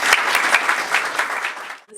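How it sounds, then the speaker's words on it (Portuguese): A forum audience on corporate governance and compliance greets a speaker with applause, dense clapping that is close and loud and then breaks off abruptly at the end. "uma salva de palmas, por favor"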